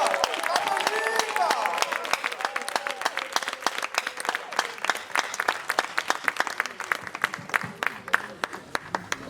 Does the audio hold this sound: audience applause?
yes